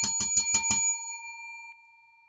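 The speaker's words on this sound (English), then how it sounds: "Ding that bell for CLSK." A bell rings five quick dings during a stock-market chat, then a long metallic ring fades out into silence.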